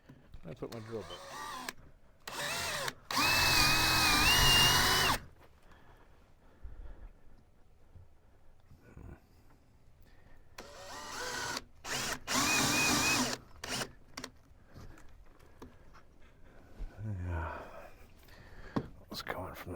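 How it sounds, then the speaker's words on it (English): A power drill drives in bursts while a cabinet is being built, two loud whirring runs of a couple of seconds each plus a fainter short burst later, with a person talking in the quieter stretches between. "now I put my drill bit."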